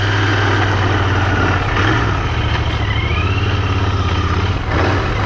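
A Royal Enfield GT 650 cafe racer motorcycle rides on slick roads, its parallel-twin engine droning loud and steady with a throbbing low pulse and small throttle changes, close to the rider with wind noise.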